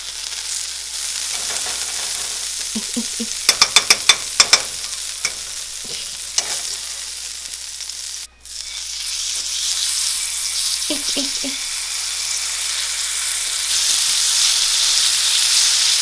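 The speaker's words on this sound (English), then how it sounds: "And then let that sizzle away and do not touch." Venison sizzles steadily in a hot saucepan, a loud continuous hiss with a few brief clinks and scrapes partway through, and no talking.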